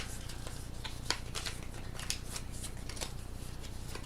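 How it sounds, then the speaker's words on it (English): Playing cards for the Aeon's End card game being shuffled repeatedly, a steady run of crisp riffling flutters with a couple of sharper snaps, no voices. "So let's shuffle again."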